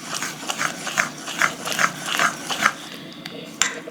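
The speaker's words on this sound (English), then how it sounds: "you want to start whisking fast because you want to get that air into it" Chocolate Dutch baby batter whisked fast in a bowl, a rapid run of scraping, rattling strokes in an even rhythm, fairly loud and close, with no talking over it.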